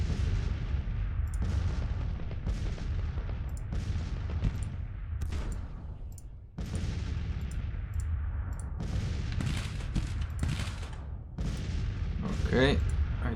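Gunshots and artillery fire from the Civil War strategy game Grand Tactician: The Civil War, a steady scatter of sharp musket cracks and heavier booming cannon blasts, some near and some distant, over a low battlefield rumble.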